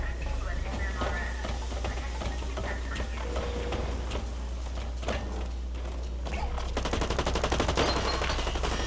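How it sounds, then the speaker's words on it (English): Rapid machine gun fire in the video game Blacklight: Retribution crackles in fast bursts, growing denser toward the end, over a constant low hum from game audio. "Just a regular machine gun."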